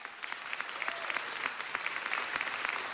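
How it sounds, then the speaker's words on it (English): Loud, dense applause from a crowd, steady clapping throughout with no voices standing out. "Give him a round of applause."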